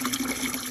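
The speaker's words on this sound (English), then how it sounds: "water that filled the tank is coming out because the bladder burst" Rotten water gushing out of the burst bladder tank of a Lochinvar WHB285 boiler, a steady close splashing rush that runs alone without a break.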